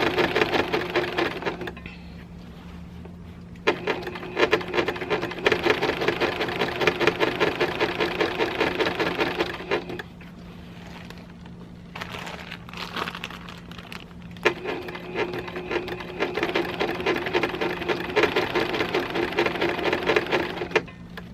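A domestic sewing machine stitches scrappy binding onto a quilt in steady bursts, its motor hum and rapid needle chatter starting and stopping several times with short quiet gaps between runs.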